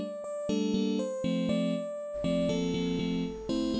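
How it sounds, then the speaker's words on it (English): Electric piano track loaded into the Godot Mixing Desk plugin, forming the core of a game music piece: bright sustained chords with a repeating plucked pattern, joined halfway through by a low bass and fuller accompaniment, with no talking. "So I'll bring in the E piano, which is the core of this track."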